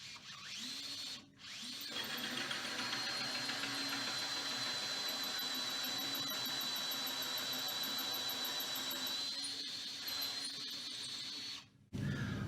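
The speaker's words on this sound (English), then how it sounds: "Then you simply drill in." A hole saw drills through a sink worktop for a tap hole, a loud steady power-tool whine with a high squealing tone, starting and stopping abruptly with brief pauses.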